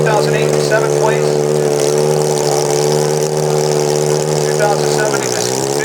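A custom-built Kawasaki motocross bike engine drones loudly and steadily at a hill climb event, with its pitch dipping near the end, under an announcer's voice over a PA.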